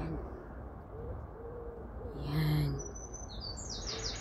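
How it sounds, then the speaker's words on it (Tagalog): Birds sing and chirp outdoors with short, high repeated calls against a steady background hiss, moderately near, and a brief word spoken once. "Nakaka-relax kasi yung mga ibon kumakanta."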